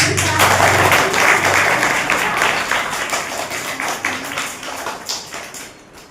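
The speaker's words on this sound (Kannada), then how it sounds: "ಅವ್ರಿಗೆ ನಿಮ್ಮೆಲ್ಲರ ಪರವಾಗಿ ಒಂದ್ಸಲ ಜೋರಾದ ಚಪ್ಪಾಳೆ" Schoolchildren at a government school clap together in a dense, loud round of applause that holds for several seconds and then gradually fades.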